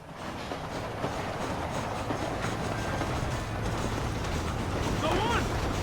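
A moving train in the Western video game Red Dead Redemption gives a continuous rumbling roll with rhythmic clickety-clack of the wheels, steady and fairly close throughout, with faint voices mixed in.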